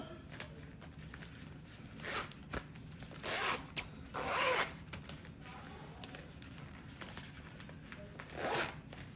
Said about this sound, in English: Maybe I think the zip's broken because it zips two ways.